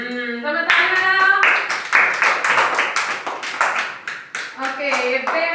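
Children clap their hands during a classroom counting game about big and small, a run of quick, rhythmic, fairly close claps between stretches of voices talking.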